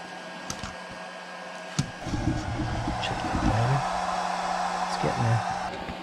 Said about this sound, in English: Very quiet servo.